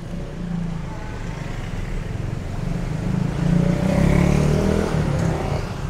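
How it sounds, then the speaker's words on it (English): Traffic noise on a busy Bangkok street near Pratunam Market, with a car rumbling steadily past that swells louder midway and then eases off, and no talk over it. "be careful of the car."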